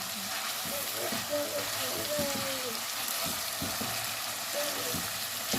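Chicken liver sizzling in hot oil in a pan and being stirred, a dense continuous frying hiss with occasional scraping of the utensil, close up, while people talk faintly in the background.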